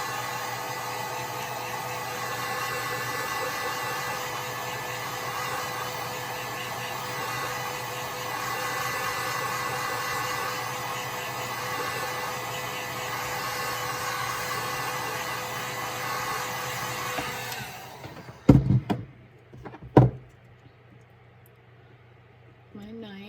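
A heat gun blows steadily, a loud even whoosh for many seconds while softening an epoxy tumbler for stripping, then cuts off, followed by a couple of knocks and quiet.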